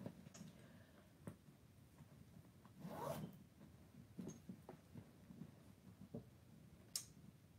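Someone works the zipper of a zip pocket on the back wall of a Dooney & Bourke handbag. Several faint, close rasping zip strokes and small ticks sound in an otherwise quiet room.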